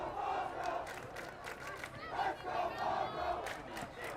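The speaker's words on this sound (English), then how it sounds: "You can hear that vocal student section cheering on their Panthers" A vocal student section cheers and yells for its team at a high school football game, a sustained crowd roar with rising shouts at a distance.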